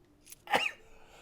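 A single sharp sneeze, close and fairly loud, preceded by a quick breath in.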